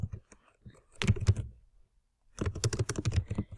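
Typing on a computer keyboard while editing a band PowerPoint slide: two short bursts of quick, close key clicks separated by a brief pause.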